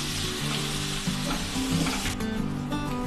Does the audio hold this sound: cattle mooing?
no